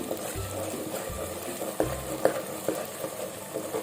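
Biryani masala with cashews being stirred and fried in a pan, with soft repeated scraping strokes and a low sizzle, close and fairly quiet.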